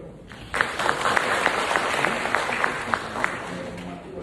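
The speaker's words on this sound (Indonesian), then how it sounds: "tepuk tangan untuk beliau" An audience at a university lecture hall at IPB applauds the rector, steady scattered clapping rising suddenly and holding at moderate volume from a fairly distant crowd, without talk.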